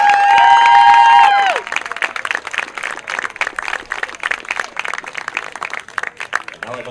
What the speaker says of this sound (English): let's give a big round of applause for our Madonna softball senior